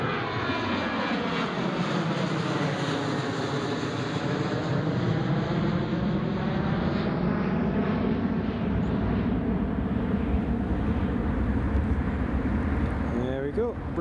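A British Airways Airbus A319 holding short of runway 25 at Newcastle International Airport, its jet engines giving a loud, steady, close roar that holds for the whole stretch with a sweeping rise in pitch, ending abruptly.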